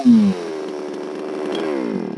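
A chainsaw revs up sharply, then settles into a steady loud engine whine as it works through firewood on a cold, breezy day, the pitch rising slightly near the end; no talking.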